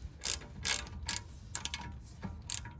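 A ratchet clicks in short bursts while brake caliper bolts on a 2004-2008 Acura TL are tightened, about six quick rattling strokes close by with brief pauses between them.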